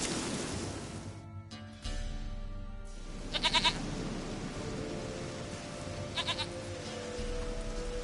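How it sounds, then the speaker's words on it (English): Goat bleating in The Witcher 3 video game, two short wavering bleats several seconds apart over a steady patter of rain, fairly close. "Goat of mine, dearest, sweetest goat."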